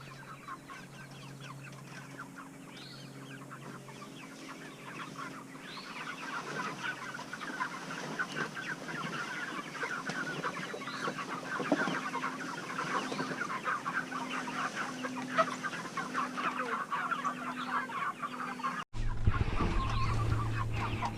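Pasture-raised chickens foraging on clover and bugs in an open field, a flock clucking and murmuring steadily at close to moderate distance, with no talking.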